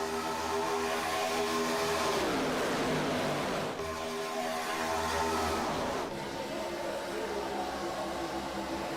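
Race cars in a Grand National stock car racing video game roar around a bumpy speedway, a dense, continuous engine drone with pitch sweeps as cars pass, loud throughout.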